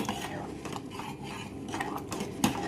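Metal spoon scraping and clinking against a pot while stirring and mashing thick cooked chana dal, with soft irregular scrapes throughout and a sharper knock near the end.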